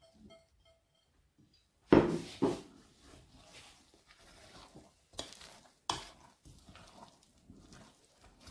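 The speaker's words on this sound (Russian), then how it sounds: "И мешаем опять ложкой." A spoon scrapes and thumps through thick batter as apples are folded in for an apple pie, a few sharp stirring strokes separated by quiet gaps, close up.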